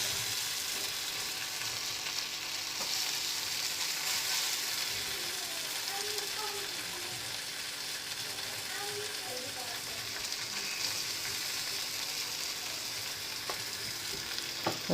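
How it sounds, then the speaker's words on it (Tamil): Pomfret fish shallow frying in a little oil, restaurant style, a continuous soft crackle and sizzle with small pops, steady and close throughout, with occasional faint kitchen sounds and no talk. "பட் நம்ம இப்போது ஷாலோ ஃப்ரையே பண்ணிக்கலாம்"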